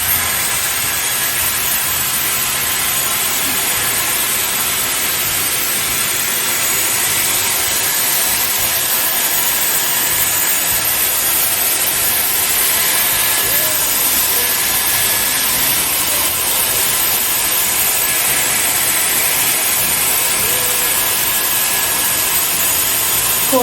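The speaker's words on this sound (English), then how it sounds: "now I'll just style it with my curling iron" A Dyson curling styler blows hot air at high heat and medium speed while curling hair, giving a constant loud, close airy whoosh with a high whine that continues unbroken throughout.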